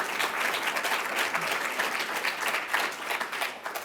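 A crowd claps steadily and fairly loudly throughout, a dense wash of applause with no voices standing out.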